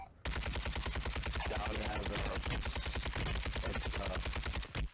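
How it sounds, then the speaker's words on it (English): Rapid automatic gunfire in the Warzone video game, fired down through a floor at enemies below, loud and continuous in dense bursts for nearly the whole stretch before cutting off. "Mate, I'm actually shooting them through the floor, no cap."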